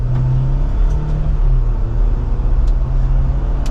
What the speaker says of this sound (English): So, testing out the little 4-cylinder motor.